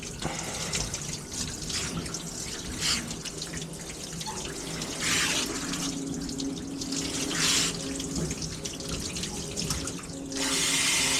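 A tap runs water continuously to rinse soap off a dog being bathed during grooming, a close steady splashing wash with shifting intensity and a brighter gush near the end.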